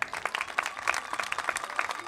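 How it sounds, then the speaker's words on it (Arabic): An audience at an evening arts event held by a youth association in Chtouka claps in a brief, lively burst of applause, many hands at once, with no voices over it. "هذا الشخص صفقوا عليه مرة أخرى"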